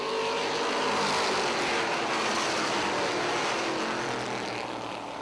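A pack of race cars roars at the green-flag restart, a dense steady engine drone from several cars building toward the front stretch, heard from a distance.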